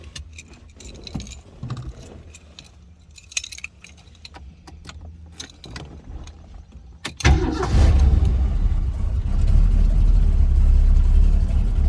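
A 1970 Shelby GT500 Fastback with a 4-speed manual: keys jingle near the ignition, then around seven seconds the engine cranks and fires into a loud, steady, rumbling idle that holds to the end.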